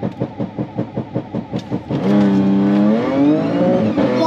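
An Audi B8 S4 makes a drag racing launch on fuel cut launch control. A rapid, rhythmic popping burble at the line gives way to a loud, rising engine roar as the car pulls away.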